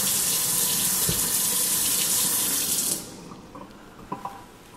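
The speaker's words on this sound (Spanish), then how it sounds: "Aquí lavando en la cocina." Tap water runs steadily into a kitchen sink during washing in a house, a loud continuous rush for about three seconds that then shuts off, leaving faint clinks and small knocks.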